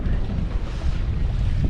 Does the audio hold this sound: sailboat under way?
yes